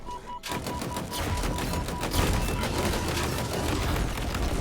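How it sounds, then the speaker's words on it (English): Rapid, dense machine gun fire from an enemy cannon in the Halo Infinite campaign, a loud continuous rattle of shots starting abruptly and holding for several seconds amid booming game effects. "They do have a little machine gun feature in their cannon that they haven't had previously"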